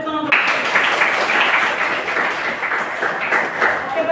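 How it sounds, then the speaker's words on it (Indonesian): A classroom full of students claps their hands in brisk, bright applause, steady and fairly close for about four seconds after a short voice at the start. "Ayo tepuk tangan."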